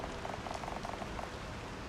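Rain falls steadily, a dense hiss of drops with a few pattering taps on a surface, even and unbroken, no voices.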